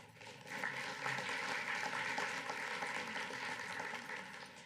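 Audience applause at a school board meeting honoring a student, a steady, moderately faint wash of clapping that holds throughout without talk.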